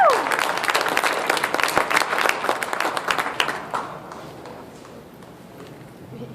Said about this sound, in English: how about a big round of applause for all those Mutton busters?